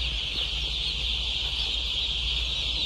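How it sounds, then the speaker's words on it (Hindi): A dense, constant chorus of high-pitched peeping from thousands of chicks crowded into a poultry control shed, steady and loud throughout over a low rumble, with no speech. "ये देखेंगे कुछ चूजे"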